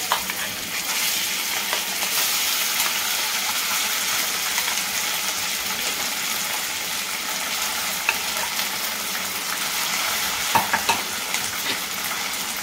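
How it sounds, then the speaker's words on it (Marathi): Cooked barnyard millet rice with green chillies, for a fasting dish, sizzles steadily in a hot pan while being stirred, a loud continuous frying hiss with occasional scraping clicks. "परतून घ्यायचा आहे।"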